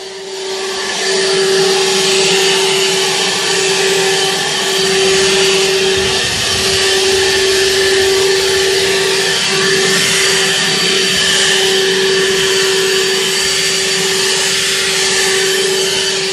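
A Nasum 40V cordless electric blower (YT7805-01) runs on turbo, a loud, steady, close whine with a strong fixed tone and airy rush that holds continuously without pause.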